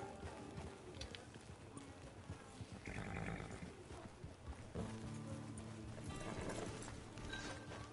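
Rhythmic horse hoofbeats in the video game Red Dead Online clip-clop at a steady walking pace, close by, with a soft music bed underneath and no speech.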